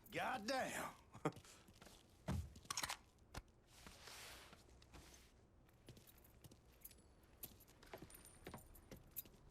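Keys jangling in the Mafia 3 video game, a bright metallic rattle that comes in short bursts near the start and again around the middle, with softer clinks and scuffs scattered through the rest.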